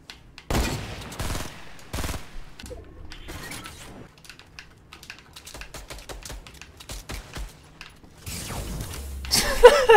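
Gunfire in the Fortnite video game, quick clicky bursts of shots and mechanical clatter, mixed with a few louder blasts and a short outburst at the end.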